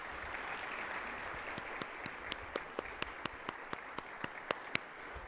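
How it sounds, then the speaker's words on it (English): An audience applauds a panel after a forum discussion: a quiet bed of crowd clapping with crisp, evenly spaced individual claps growing more prominent and near toward the end. "Let's give them a round of applause."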